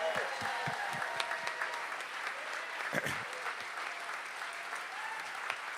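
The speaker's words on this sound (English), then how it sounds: "everybody give yourself a round of applause" Audience at a town hall in North Carolina applauds steadily, a continuous wash of clapping with a few sharp nearby claps and voices talking faintly underneath.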